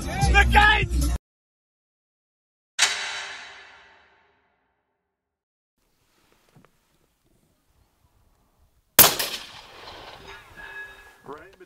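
A 10-inch 8.6 BLK rifle fires Hornady 315-grain subsonic Sub-X rounds, with two sharp reports several seconds apart, each trailing off into a decaying outdoor echo. A brief burst of voice comes first.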